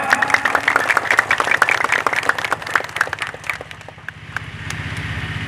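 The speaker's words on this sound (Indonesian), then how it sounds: "Tepuk tangan." A crowd claps at an outdoor gathering, the sharp, uneven claps thinning out and fading after a few seconds while a low engine idles steadily underneath.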